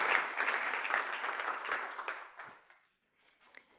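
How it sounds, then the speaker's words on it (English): Applause from an audience at a summit opening ceremony, close and steady at first, then thinning out and fading to a few last claps. "So a round of applause for our colleagues."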